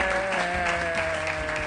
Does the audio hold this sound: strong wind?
no